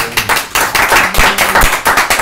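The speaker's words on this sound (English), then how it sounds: "Can you hear the online applause?" Online applause from a live-stream audience, a steady patter of many hands clapping at once, loud and close with uneven bursts throughout and no voices.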